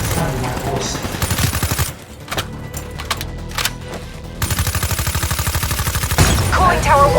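Rapid automatic gunfire in Call of Duty Black Ops 3, dense rattling bursts on and off, with a short pause broken by a few isolated shots before the rapid firing resumes, loud and close with a voice heard briefly.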